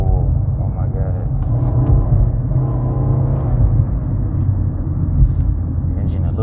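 A 2017 Nissan Altima SV engine hums at a steady, low drone while driving, with a continuous road rumble underneath and people talking inside the cabin.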